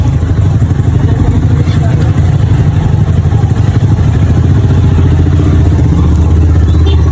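A motorcycle engine drones steadily at close range throughout, with wind buffeting and a rattling clatter underneath.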